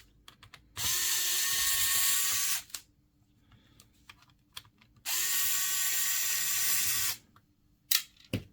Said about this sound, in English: We may have to remove the screws from the hinge.